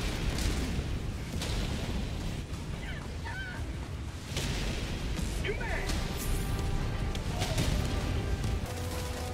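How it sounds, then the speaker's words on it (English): Orbital barrage explosions in Helldivers 2 rumble and crash repeatedly, a dense run of heavy booms with sharp impact bursts mixed with game effects and a voice over them. "Requesting orbital. Orbital barrage incoming."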